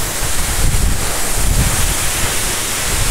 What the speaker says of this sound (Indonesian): Air terjunnya benar-benar syahdu,